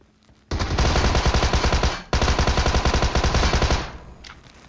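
A Tommy gun fires in PUBG Mobile: two long, loud, close automatic bursts of rapid shots, split by a brief pause near the middle, with no talk over them.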